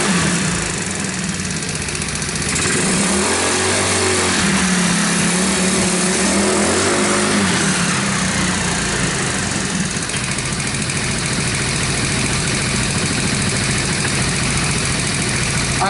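Motorcycle engine fitted with a PWK carburetor, loud and steady throughout, idling with a low throb and blipped up in a short rev before settling back, close by with no speech.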